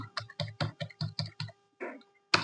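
Typing on a computer keyboard while entering company details into accounting software, a close, crisp run of about a dozen keystrokes in an even rhythm with a brief pause before a final heavier key press.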